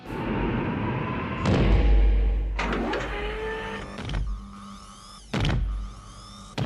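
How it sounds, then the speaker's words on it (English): Heavy movie mech exoskeleton in motion: whirring servo-like motor whines and mechanical clanks, with thuds and hydraulic hisses recurring in bursts, loud and close, no talk. "you'll need the granddaddy of all movie mechs, the Power Loader Exoskeleton"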